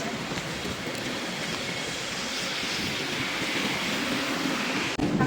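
A train passes at a station as a loud, steady rail rumble and roar that fills the whole stretch close by, with no talking over it.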